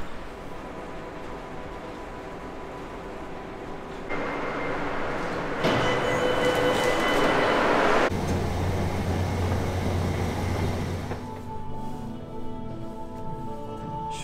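Seoul subway train ride heard from inside a moving car: a steady, loud rumble of wheels and motor that swells and shifts in pitch over about fourteen seconds, with no talking.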